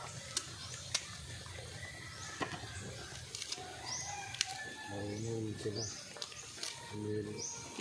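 Chickens cluck and squawk in short bursts, with a rooster-like call and occasional wing flaps, fairly close, over a busy outdoor background.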